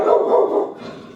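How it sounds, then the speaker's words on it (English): A dog barks in a short burst of loud, close yaps and woofs that fade off toward the end, with no talk over it. "Shh, hey, stop barking."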